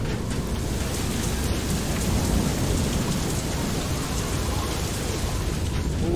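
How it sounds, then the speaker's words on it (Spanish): Torrential rain drums on surfaces in the video game FAR: Lone Sail, a thick, unbroken roar with faint rumbles beneath, steady and close throughout with no talking. "Qué manera de llover."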